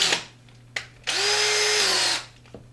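A DeWalt drill/driver run in short bursts: a couple of quick clicks of the trigger, then a sustained high motor whine for about a second that winds down, close and fairly loud with no talk.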